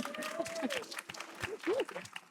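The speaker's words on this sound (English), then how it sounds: "round of applause for that" Scattered clapping from an audience, fairly faint and uneven, with a voice speaking over it.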